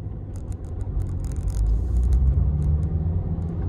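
A powerful 2.0-litre car engine pulls away under load, a steady deep rumble with a rising whir as the car accelerates, close and continuous throughout with no one talking.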